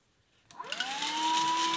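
An AIRKII handheld vacuum cleaner with an 80-watt motor and its extension attached switches on and whirs up to a steady, loud, high-pitched whine close by.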